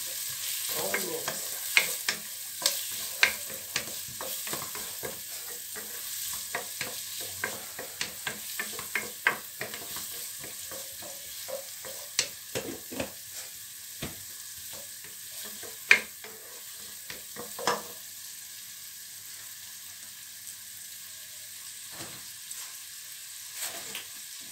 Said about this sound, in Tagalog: Ito natin maluto yung onion